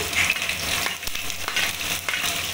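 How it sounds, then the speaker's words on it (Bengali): Chopped garlic frying in oil in a wok gives a brief, close, steady sizzle with a few light stirring scrapes. "রসুন কুচিগুলো ভালো করে ভাজা হয়ে গেছে"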